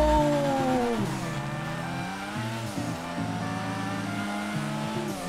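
A Karin Futo races in the video game GTA 5, its engine revving and shifting through gears with rising and falling whine, loud and up close, with a tire squeal at the start.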